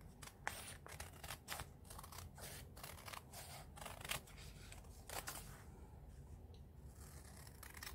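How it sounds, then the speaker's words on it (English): Quiet, close snips of nail scissors cutting paper, a dozen or so sharp crisp clicks in an uneven rhythm over faint rustling, with no voices. "I'm using a nail scissors for the curvy parts and just"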